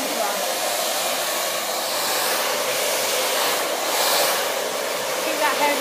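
A hair dryer blows steadily at close range while hair is dried with a brush, a loud, even airy whoosh that swells slightly as it moves.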